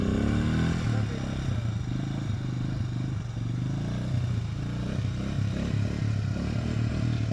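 A 37-year-old Honda trail motorcycle engine braking on a dirt trail, a steady low rumbling drone held throughout, close and loud, with light clatter and scrapes over it.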